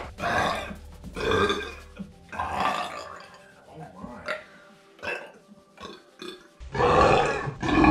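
Long, loud, guttural burps come in a burping contest, several drawn-out belches separated by short pauses, with the last one the biggest, all close to the microphone.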